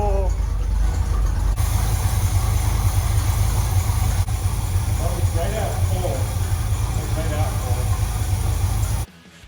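A 1954 International truck engine running steadily with a loud, low rumble throughout, then cutting off abruptly near the end.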